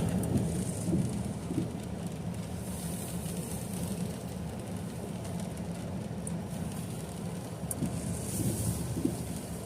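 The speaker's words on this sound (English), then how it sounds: "We're going to start getting rained on." Rain falls on a car during a severe thunderstorm in northwestern Pennsylvania, a steady dense patter with a low rumbling undertone that holds evenly throughout, with no talk.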